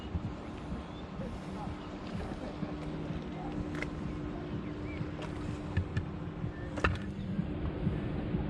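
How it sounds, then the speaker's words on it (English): A small boat moves steadily through water with a continuous engine and hull rumble, wind noise brushing the microphone and a few faint knocks, close and even throughout. "Surely this boat is going to slow down."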